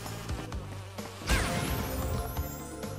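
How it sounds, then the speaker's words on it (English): A swarm of bees buzzes steadily in the Crash Bandicoot N. Sane Trilogy video game, a dense, continuous drone under game music and effects, with a sharp crash-like burst midway. "Wasn't expecting that many bees."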